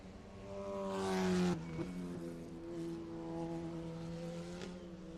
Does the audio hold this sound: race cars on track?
yes